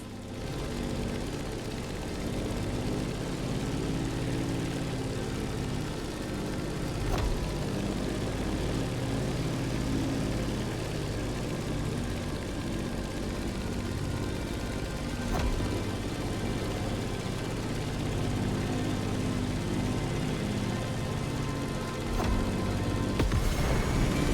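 Propeller aircraft engine droning steadily while climbing in the racing game The Crew Motorfest, a continuous loud hum with faint clicks and no speech.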